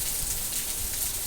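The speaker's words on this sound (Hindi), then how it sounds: "ये बरसात का सुहाना मौसम, ये रिमझिम गिरते हुए पानी की बूंदें" Light monsoon drizzle falls steadily, a dense, even hiss of raindrops with no gaps and no voices, close and continuous throughout.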